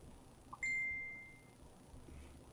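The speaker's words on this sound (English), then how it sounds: "Somebody just dinged." A single bright phone notification ding rings out clearly, sustaining and fading over about a second against a quiet room background during a pop culture podcast recording.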